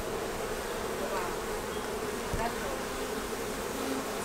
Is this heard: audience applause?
no